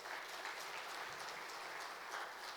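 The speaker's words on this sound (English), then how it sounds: "can we have a big round of applause for all of them?" Steady audience applause at a business event, many hands clapping continuously for the full stretch at moderate, fairly distant level with no talk over it.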